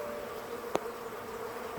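Honey bees buzz near their hive in spring in Newfoundland. A faint, steady drone hangs low and continuous, with one brief click partway through.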